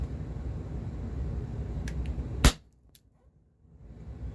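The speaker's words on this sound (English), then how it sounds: "First shot." An Umarex HDR50 air pistol fires a clay slingshot ammo round outdoors, one sharp, loud crack over faint background noise, followed by near silence.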